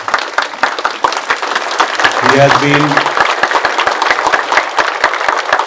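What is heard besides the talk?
audience giving standing ovation applause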